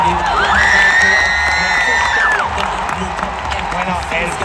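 A stadium crowd at Melodifestivalen cheers and whoops loudly with a shrill sustained whistle-like tone rising above the roar, while a person talks over it.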